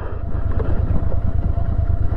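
Motorcycle riding slowly off-road on a diversion in Ladakh, a close, loud engine that pulses rhythmically at low pitch with constant rumble and no pauses.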